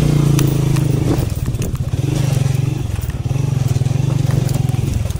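Motorcycle ridden on a rough mountain track at Tilla Jogian, its engine droning loud and close with uneven revving and dips as the bike jolts, rattles and clatters over the terrain.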